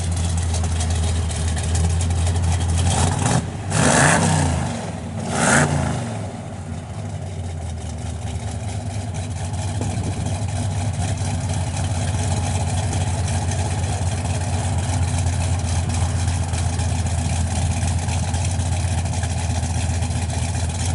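A 1966 Chevrolet Chevelle SS 396 V8 with stock-type mufflers and a lumpy camshaft idles steadily and close, giving two quick revs early before settling back into a rough, loping idle.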